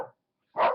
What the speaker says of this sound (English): My dog, Teddie Pom Pom, is barking in the background for no apparent reason.